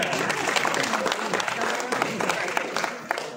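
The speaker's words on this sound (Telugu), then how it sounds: "ఖాళీ 2 చేతులతో చప్పట్లు" An audience applauds at a public meeting for the foundation laying of development works in Kyathanpalli municipality, Mandamarri. The clapping is dense and sustained, with a voice speaking over the crowd.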